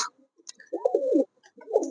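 Satin pigeons coo in short, soft, throaty bursts close by, with brief quiet gaps between calls.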